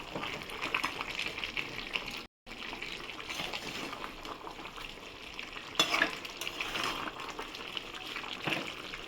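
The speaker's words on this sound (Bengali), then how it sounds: "ঢাকা খুলে আমি একবার নেড়ে দেবো" Chicken kosha being stirred in a pot after the lid comes off, a steady sizzling fry with scraping stir strokes running continuously, briefly cut out once, with a few louder clatters.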